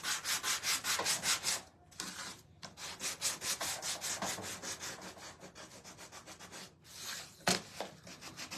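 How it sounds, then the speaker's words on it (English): An electric sander works the wooden brim of a scarecrow door hanger, giving a close, steady buzzing rasp that pulses with each pass, broken by brief pauses, with no talking. "I am going to sand it just a tad."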